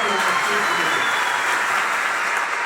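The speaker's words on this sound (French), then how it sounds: "Une fois de plus, vos applaudissements." Wedding guests applaud, steady broadband clapping from a crowd that holds evenly throughout and sounds fairly close and loud.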